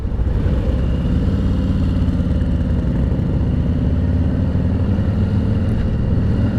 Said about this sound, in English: You never really know what a motorcycle is going to be like until you take it on the highway